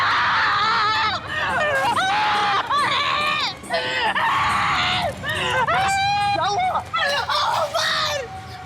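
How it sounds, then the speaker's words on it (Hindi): Frantic, repeated screaming rings out over a noisy crowd of shouting voices, loud and sustained, in a scene from a horror TV series. "क्यों चिल्ला रहे हो?"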